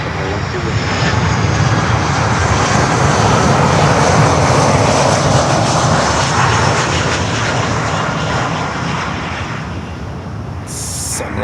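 A Sunrise Airways airliner roars loudly at Miami airport, its engine noise a broad sustained rumble and hiss that swells and slowly fades.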